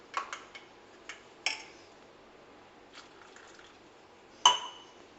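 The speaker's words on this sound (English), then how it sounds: "to this add hot milk. Just give a stir." A spoon stirring hot milk into oats in a bowl, a few sharp light clinks and taps of metal against the dish with soft liquid sloshing between, sparse and close.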